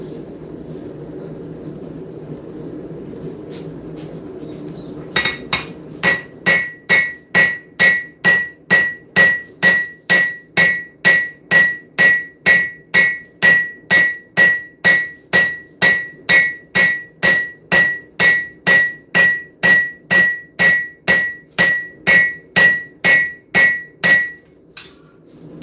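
A very large hammer forging metal in a blacksmith shop strikes in a long, steady series of loud, evenly spaced ringing blows over a low background hum.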